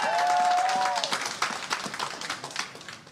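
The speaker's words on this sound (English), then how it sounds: "all the whooping and hollering and applause" A rally crowd bursts into applause and whooping, a sustained whoop ringing out at first over dense clapping that then thins into scattered claps.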